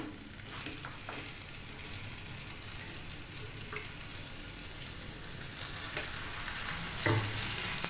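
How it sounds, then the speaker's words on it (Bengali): Paratha frying in oil in a pan, a soft steady sizzle with occasional light clicks and a brief louder clatter near the end. "এই একইভাবে সব পরোটাগুলো ভেজে নেব"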